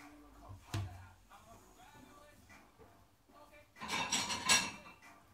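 Mixing bowl pulled out and handled in a home kitchen while baking cupcakes: a sharp clatter early on, then a louder cluster of clinking and rattling dishes near the end, fairly close.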